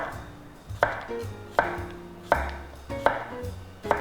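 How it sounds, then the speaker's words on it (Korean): A knife cuts a cucumber into strips on a cutting board in a steady series of sharp knocks, about one every second, close and clear with no talking. "오이 이렇게 썰으셔서"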